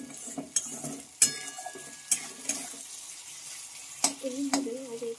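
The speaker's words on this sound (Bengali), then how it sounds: "তো এখন এই মশলাটাকে একটু ভালোভাবে আমি কষিয়ে নেব।" Spice masala for a chicken dish sautéed in a pan, with a spoon scraping and knocking against the metal in irregular strokes over a light sizzle, close and fairly quiet.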